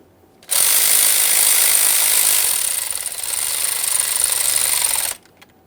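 Power tool snugging 8mm headed mounting bolts on an engine bracket of a 2015-2020 Ford F-150 3.5L V6, one loud continuous buzzing whir of about five seconds that starts and stops abruptly.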